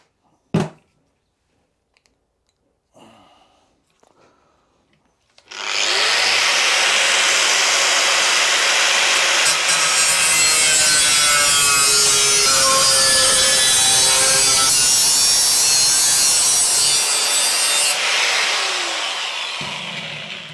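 A BMW car body panel being trimmed straight along a line with a power cutting tool: a few quiet knocks, then a loud, continuous harsh grinding-sawing hiss that runs unbroken for about fifteen seconds before easing off.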